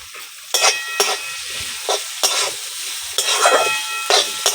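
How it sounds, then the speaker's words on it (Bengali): Chopped onion and potato fry in a pan for flattened-rice pulao, a steady close sizzle punctuated by repeated sharp stirring scrapes. "পেঁয়াজ আর আলুটাকে ভালো করে ভেজে নেব।"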